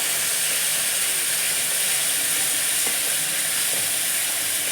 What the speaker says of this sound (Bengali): লাল লাল করে পেঁয়াজটা ভেজে নিতে হবে।